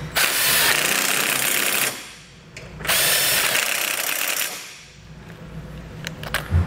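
A power tool with a 17mm socket driving bumper bolts while a base plate kit is fitted to a 2021 Chevrolet, loud and close, in two long whirring runs separated by pauses and ending in a few short clicks and knocks.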